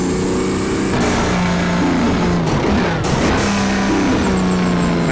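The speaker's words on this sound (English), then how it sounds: "That double clutch sounds really cool." BMW M1 race car in the rFactor racing game, its engine revving loud and continuous with double-clutch blips on downshifts as the pitch drops and rises again.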